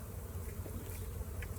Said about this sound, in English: every time I spray onto this thing, a bee lands on it.